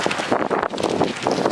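Strong wind gusts buffet the microphone outdoors on an August stroll through a Texas neighborhood lined with palm and pine trees, a loud continuous rushing roar with uneven surges and no talking.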